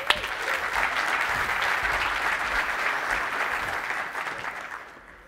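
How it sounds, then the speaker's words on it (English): Sustained applause from a tech conference audience, a dense steady clapping that fades out toward the end. "Let's give them a round of applause and say thank you."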